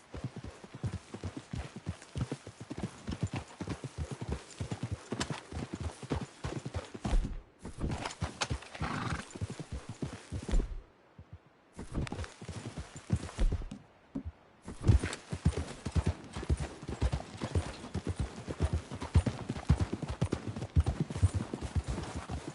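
Horses walk along at a steady pace, hooves clip-clopping in a dense continuous rhythm with a couple of brief pauses, and a faint whinny now and then.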